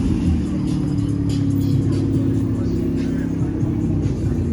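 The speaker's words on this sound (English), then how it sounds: "car over there with blow-off valves and everything" A car fitted with blow-off valves on a downtown Charleston, South Carolina street gives off a loud, steady low engine rumble and drone, close by and continuous.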